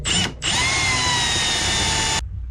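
A reciprocating saw with a fine jigsaw-style blade cuts out starboard plastic on a boat, giving a loud harsh buzzing burst after a brief start, running steadily for about two seconds before stopping abruptly.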